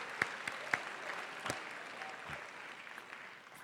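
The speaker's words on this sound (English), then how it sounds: "please rise in their seats and give them a round of applause" An audience at the Ramaz upper school graduation applauds the school board members, with thin, scattered clapping and a few sharp individual claps that gradually taper off.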